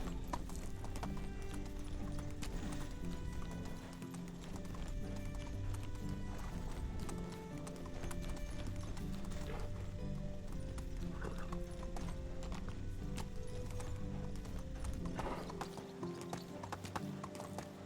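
Horse hooves clip-clop steadily in the medieval life-sim game Medieval Dynasty, a continuous rhythmic galloping beat with occasional neighs, loud and close under game ambience throughout.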